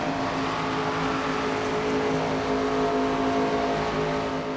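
Race car engines from the NASCAR 25 video game drone steadily in a continuous, loud, sustained roar with harmonic tones and no pauses, as at an ARCA race at Kansas.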